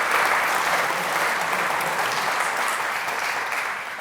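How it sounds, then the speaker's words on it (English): Dense, steady audience applause at a community awards ceremony, many hands clapping at once without pause, easing slightly toward the end. "Another round of applause for the MHA Communities and Liberty"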